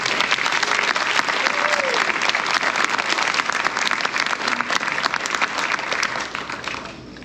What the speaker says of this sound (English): Let's give these students one last round of applause.